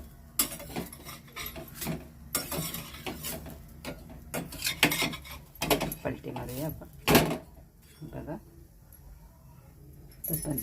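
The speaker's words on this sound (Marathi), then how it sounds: "आपण पलटी मारून घेऊया आपण सगळ्या बाजूने भाकरी सोडवून घेऊया" Bhakri flatbread loosened and flipped on a hot griddle for an Aagri-style fish thali, heard as a series of scraping, rubbing strokes and light knocks of varying loudness, with brief talk in between.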